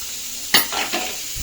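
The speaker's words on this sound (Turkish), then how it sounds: "Burada da balık kızartıyoruz" Fish sizzles in a hot pan, with a sharp burst of crackling spatter followed by a couple of quieter sizzling surges.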